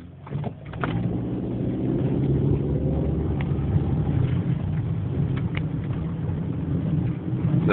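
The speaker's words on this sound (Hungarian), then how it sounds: "Busz." A city bus goes by on Dolores Street in San Francisco, its engine a steady low rumble with road noise, fairly close and holding throughout, with a few faint knocks and clicks near the start.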